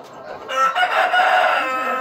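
Super hybrid laying hens on an egg farm cluck in a busy flock while a rooster crows loudly over them, a dense and continuous barnyard chorus.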